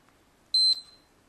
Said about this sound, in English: The alarm indicates pause has been entered.